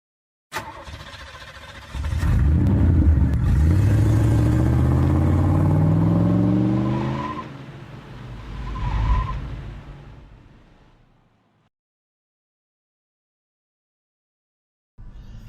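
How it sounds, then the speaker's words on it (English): A 1966 Plymouth Barracuda with factory 4-speed cranks and fires up loudly, its engine roaring with a rising then settling pitch, a second surge of revs, then the sound fading away before a brief noise at the end. "I'm gonna do a startup for you. Fire's right up."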